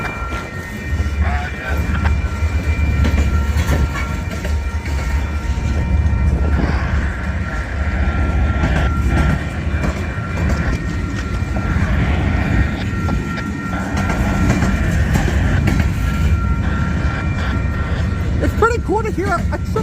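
A train passing through St Paul rumbles loudly and steadily up close for the whole stretch, wheels clattering on the rails, with someone talking over the noise and a higher tonal sound rising near the end.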